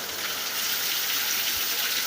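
Heavy rain and fast-flowing water at night during the first monsoon rains, a dense, steady hiss of rushing water close by with no voices.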